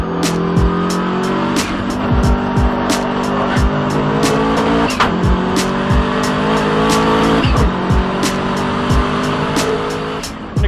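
A twin-turbo Subaru Impreza RS time attack car with over 800 wheel horsepower at 45 psi runs at Lime Rock Park during a Gridlife event. Its engine drones steadily and loudly for the whole stretch, with repeated sharp pops and crackles and some tire noise.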